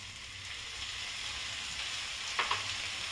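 Spinach puree poured into a pan of sizzling corn, giving a steady bright frying hiss with a couple of brief louder crackles near the end, fairly quiet and with no talking.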